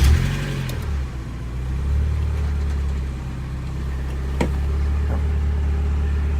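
A cold 1990 Mazda Miata engine with a hesitation issue turns over at the start and settles into a steady, rough running drone, loud and close throughout.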